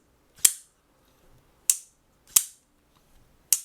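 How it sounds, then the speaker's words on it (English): Shirogorov F95R Slim pocketknife snapping shut with a crisp, high-pitched clank and click, heard four times at irregular intervals, close and sharp against near silence. "Very elegant, high-pitched, not too loud, clank, and click when closed."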